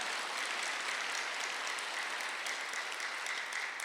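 A church congregation claps together during a Sunday worship sermon, a steady dense wash of applause filling the room at even volume for the whole stretch, with no voices over it.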